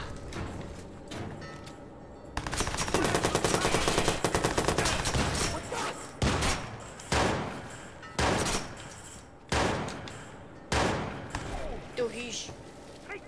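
Shotgun blasts in the video game Watch Dogs, a dense burst of rapid gunfire followed by several loud, evenly spaced single shots, each with a short ringing decay, with a voice briefly heard beneath.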